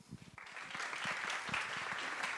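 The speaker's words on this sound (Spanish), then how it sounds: "démosle un aplauso y comencemos" An audience at a book launch for a climber's book breaks into applause, starting with a few scattered claps and quickly swelling into full, sustained clapping.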